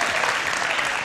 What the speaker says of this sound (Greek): Ένα χειροκρότημα στους παίχτες μας